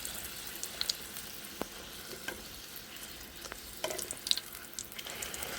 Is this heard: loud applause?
no